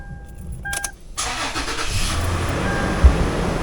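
Toyota 4Runner being started after a transmission fluid drain and fill: a few chimes and clicks, then the starter cranks and the engine catches into a steady idle, close by.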